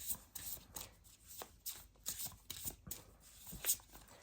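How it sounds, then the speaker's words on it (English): Tarot cards shuffled by hand and then drawn, a run of quick riffling, slapping bursts in an irregular rhythm, close and fairly quiet with no talking. "I will pull 3 cards for advices."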